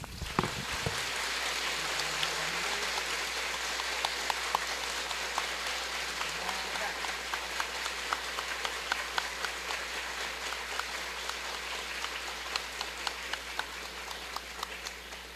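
Sustained audience applause after a talk at a religious gathering, dense steady clapping from a large crowd that gradually thins toward sparser individual claps.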